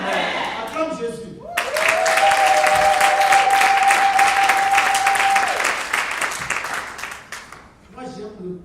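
A church congregation gives loud, sustained applause with cheering voices that swells and holds for several seconds and then fades out, while a musical tone rings beneath it.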